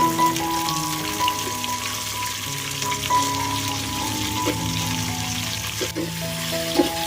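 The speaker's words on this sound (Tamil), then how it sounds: "வெங்காயம் வதங்குற அளவுக்கு நல்லா மெதுவாக நல்லா கிண்டி விட்டுக்கலாம்." Onions sautéing in a pan for chicken curry give a steady close sizzle and crackle, with occasional scrapes from stirring and faint music in the background.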